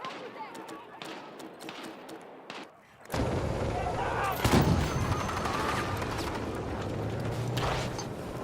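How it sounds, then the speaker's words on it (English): Mortar artillery fire in the Battlefield 6 video game shakes the ground. After three quiet seconds, a loud, sustained booming rumble sets in, with a sharper blast midway, and continues steadily to the end. "Mortars. Is it our mortars or theirs?"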